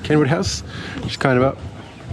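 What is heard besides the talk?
No distinct noise like a dog, phone or traffic.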